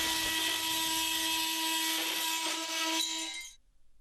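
A Bosch GOP250CE oscillating multi tool cuts laminate with a loud, close, high buzzing whine that runs steadily for about three seconds, then winds down and stops.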